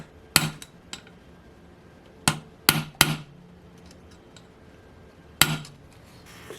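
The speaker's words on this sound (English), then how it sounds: "Just put it in the vise and let's do a little mechanical shock to this fastener here." Sharp metallic hammer blows strike a stuck fastener on an OS FS-48 Surpass model engine clamped in a vise, six or so loud separate knocks in irregular pairs and singles with quiet pauses between.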